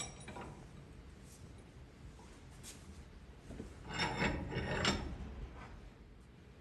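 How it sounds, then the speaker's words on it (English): A half-inch by 13 die cuts threads farther down a bolt at a stone mill, giving faint rasping, grinding scrapes in uneven strokes that swell louder briefly midway, with no talking. "cut the threads farther down so that we can tighten this thing up like it's supposed to be"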